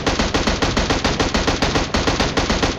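M16 rifle fire in a battle royale video game, rapid sustained bursts of close, loud automatic shots in a steady fast rhythm with one brief break, no talking.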